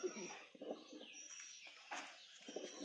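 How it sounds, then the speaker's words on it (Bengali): A male Madras pigeon coos in low repeated pulses close by, its soft throaty calls coming in short bursts over faint background hiss. "এই যে একটা চটিয়াল মেডাস নর পায়রা।"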